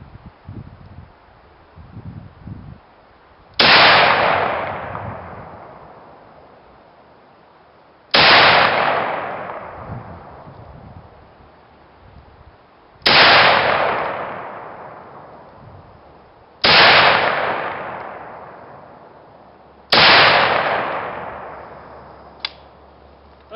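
Five sharp, loud gunshots from a new shooter firing at an outdoor range, spaced about every four to five seconds, each with a fading echoing tail.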